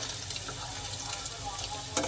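Chicken popcorn fries in hot oil, a close, continuous sizzling hiss with a sharper spatter near the end and no speech.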